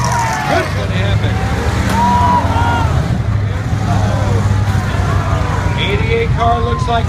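Demolition derby cars rev and grind around an arena, engines roaring steadily up close with scraping and impacts, while an announcer talks over the action.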